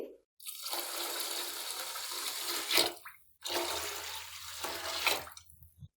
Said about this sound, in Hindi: पानी हम खुला सा डालेंगे ताकि चावल अच्छे से बॉयल हो जाए।